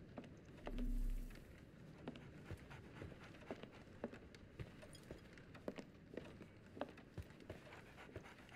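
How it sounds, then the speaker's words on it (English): Dog panting in Sherlock Holmes: The Awakened, steady quiet breathy rhythm across several seconds with scattered clicks and a soft low thump early on. "So, Barnes has a dog now."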